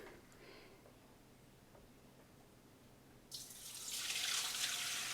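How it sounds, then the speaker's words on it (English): Citric acid soaking water drains from garlic through a colander into a kitchen sink, starting as a faint trickle, then swelling into a steady, loud rush of pouring water that continues alone. "we're going to go drain the citric acid water solution using a colander in the sink"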